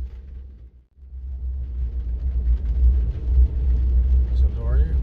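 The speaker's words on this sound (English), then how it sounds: "there's a lorry in front of us" A lorry rumbles ahead in the street in Ørsta during Norwegian National Day, its low engine drone building in loudness after a brief dip, with general outdoor commotion over the top.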